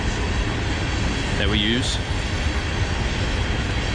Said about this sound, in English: You can see the train's a little noisy right now across the river